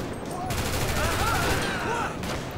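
Gunfire in GTA V rattles out as a rapid burst of shots, loud and close, with faint ricochet-like whines, lasting under two seconds amid game noise.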